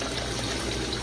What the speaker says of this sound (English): And I'll just get a little more water here. Swish it around.